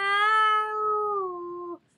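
A voice imitates a cat's meow, one long sustained, slightly falling nasal meow that ends abruptly, close and clear with no other sound.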